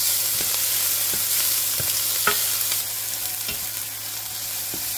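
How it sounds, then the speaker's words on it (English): Onions fry in a pan with a steady sizzle while a utensil stirs them, giving a series of distinct taps and scrapes at a fairly regular pace. "let me go in with my onions now. I'm just gonna let them turn them around"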